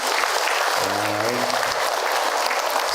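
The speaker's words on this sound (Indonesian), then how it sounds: "Tepuk tangan buat kita semua." Steady, loud audience applause at an Islamic religious lecture and Q&A session, with a voice briefly audible over the continuous clapping.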